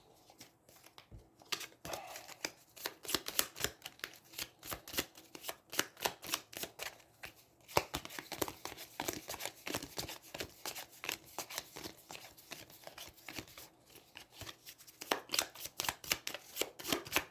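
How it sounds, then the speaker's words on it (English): A large deck of cards for the Aeons End 2nd Edition board game being shuffled at a table, rapid riffling bursts repeating in quick rhythmic runs, close and fairly quiet. "I'm not used to shuffling this big of a deck"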